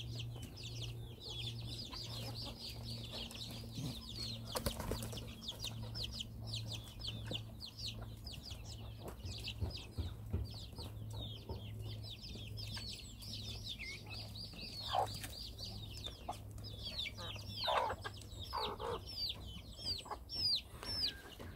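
Native Korean chickens and Araucanas cluck steadily together at breakfast on a farm. The soft, overlapping clucks go on without a break, with a few sharper calls and a low constant hum underneath, and no one speaks.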